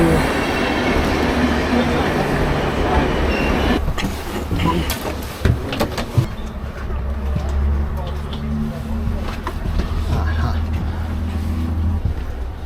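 Inside carriage 5 of a moving passenger train in Budapest, a loud, steady rumble of wheels and rails fills everything. A brief rush of louder noise comes partway through, and people talk over the din.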